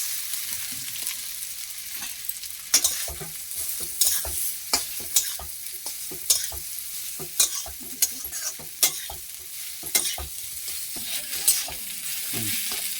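Dried hog plum pieces stirred and fried in oil for pickle, a bed of close sizzling punctuated by repeated sharp spoon scrapes and knocks at irregular intervals, with no voices.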